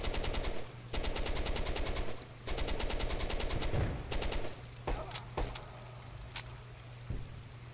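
Machine gun fire in the tactical video game Door Kickers 2 during a bridge assault, with long, loud sustained bursts broken by short pauses, then trailing off into scattered single shots.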